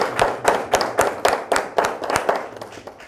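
Rhythmic clapping from a small audience at an Easter mushaira poetry gathering, about a dozen sharp, evenly spaced claps in unison, close and fairly loud, with no voices over them.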